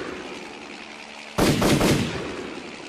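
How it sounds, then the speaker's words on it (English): After a quiet stretch, a sudden loud burst of gunfire aimed at a helicopter erupts, a sharp rough blast that rumbles and fades over a second. "Bond shot at the helicopter."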